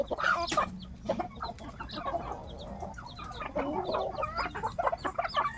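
Hens cluck and chicks peep in a busy jumble of short calls on a backyard chicken farm, fairly close, with no talking.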